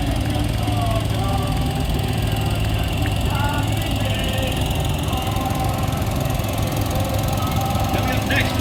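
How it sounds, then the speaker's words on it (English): A 1966 Case 190 tractor runs in a small-town parade, its engine chugging loudly and steadily from start to finish. Voices are faint beneath the engine noise. "Our next entry is a 1966 Case 190 tractor driven by West Midland Road."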